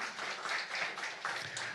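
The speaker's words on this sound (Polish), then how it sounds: "Wielkie dzięki, wielkie brawa, Alicja." Applause from a gathered audience at a local cultural event, a faint, steady patter of many hands clapping throughout, heard from a distance without talk.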